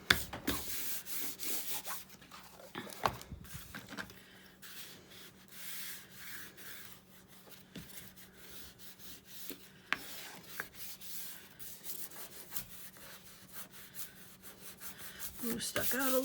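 Excess glue rubbed off the spine of a handmade book with fabric covering, giving soft, close, intermittent scratchy rubbing strokes with small taps, fairly quiet, and a voice speaking briefly.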